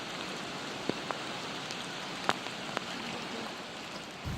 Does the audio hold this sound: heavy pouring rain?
yes